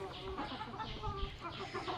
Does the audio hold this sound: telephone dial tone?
no